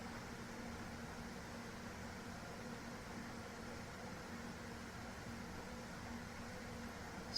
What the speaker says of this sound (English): you can connect with the sound of the aircon or air purifier in this room